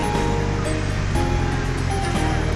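A water fountain in a residential plaza splashes in a steady, dense rush of falling water, loud and continuous, with faint low background hum.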